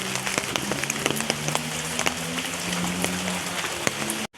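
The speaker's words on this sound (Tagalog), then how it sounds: "Flex ko lang sa inyo ang malakas na ulan." Heavy rain pours steadily onto a surface near a house, a dense continuous patter with sharp individual drop hits throughout, no voices.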